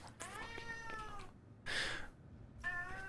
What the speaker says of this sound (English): How am I meant to clutch with his cat screaming at me?